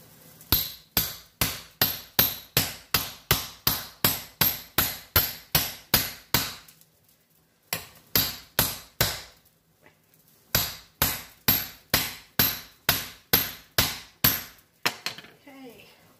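A knife chopping at a thick beef rib bone, striking in rapid regular bursts of sharp, loud knocks, about a dozen in a row, then a pause, a short set, another pause and a final run of blows.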